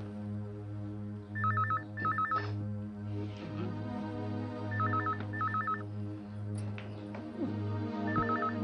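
An indoor telephone rings in a home, repeated paired electronic trills in regular bursts over a steady low hum, with no talk.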